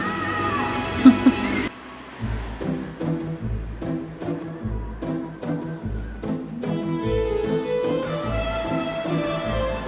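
Cats meow repeatedly, drawn-out plaintive cries close by, over a busy background of music and room noise.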